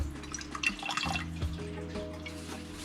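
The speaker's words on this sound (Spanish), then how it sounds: "aquí le voy a añadir agua para cubrir las mollejas" About four cups of water are poured into a cooking pot over raw chicken gizzards, a close, splashing, trickling stream that varies slightly in strength, with no talking.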